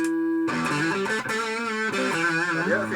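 A 1983 Westone Concord II electric guitar with both pickups on is played through distortion, producing loud, sustained, gritty notes that shift pitch in a continuous melodic run, with no talk.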